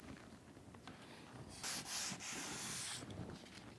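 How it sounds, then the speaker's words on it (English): Wood siding or shingles being hand sanded before a final stain coat: a short, quiet burst of abrasive rubbing strokes lasting about a second and a half, alone against faint background noise. "we're going to take a moment to sand this surface, make sure we get rid of any rough spots"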